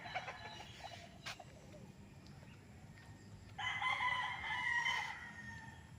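Fighting cocks at a training area on a farm crow, with one long loud crow rising in the second half over quieter clucking and distant crows.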